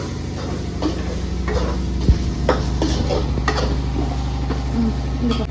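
Ground masala sautéing in a pan for chicken gravy, stirred with a utensil: soft repeated scraping strokes over a steady low sizzle and hum, close and moderate in level.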